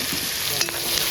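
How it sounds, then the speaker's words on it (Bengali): Chili, tomato, ginger and garlic sizzle in a pan with a splash of water, with a spoon scraping and stirring briefly through the soft, steady frying hiss. "সামান্য জল দিয়ে আদা রসুন টমেটো লঙ্কা কষানো হচ্ছে।"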